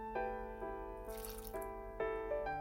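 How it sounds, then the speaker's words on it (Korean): Water is poured into a kettle pot blender holding tomatoes, giving a short splashing gush between steady tonal background hum, heard close and fairly quiet. "잘 갈려야 되니까 물 조금 붓고 올리고당도 넣었어요."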